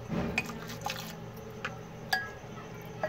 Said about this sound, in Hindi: थोड़ा सा पानी डालकर